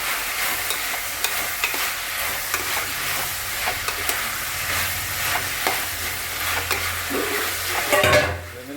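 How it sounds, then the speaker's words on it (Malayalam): Potatoes fry in a pan with tomato and green chilli for chicken curry while a spoon stirs and scrapes through them, a close steady sizzle broken by repeated scraping strokes and a louder clatter near the end. "ഇങ്ങനെ ഇളക്കി കൊടുക്കണം കേട്ടോ"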